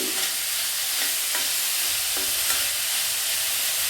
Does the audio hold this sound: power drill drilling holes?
no